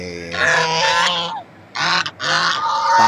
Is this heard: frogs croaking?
no